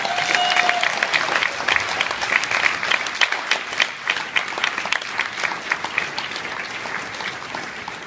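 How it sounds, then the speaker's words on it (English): Sustained applause from parents at a school graduation dinner dance, loud and dense clapping that carries on at an even level throughout. "So parents, now, please give them a well-deserved round of applause."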